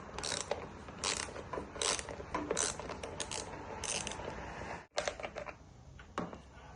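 A small wrench works a 10 mm bolt on the roof rail of a 2010 Toyota RAV4, making close, crisp, irregular metallic clicks and ratcheting ticks in short bursts, with a brief pause in the middle.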